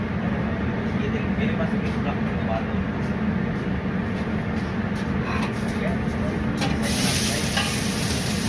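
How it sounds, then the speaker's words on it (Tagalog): Ingredients sautéing in olive oil in a pan, a continuous loud sizzle and stirring with a low rumbling background throughout. "Ginisa natin, halo-halo na lang natin guys."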